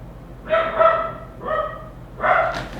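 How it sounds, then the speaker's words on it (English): Dogs give three loud, close barks, spaced unevenly and separated by short quiet gaps. "What you barking at?"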